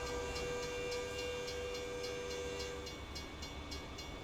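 Train in American Truck Simulator, a steady rumbling rail roll with a sustained horn-like tone, heard at a distance and fairly faint, with no talking.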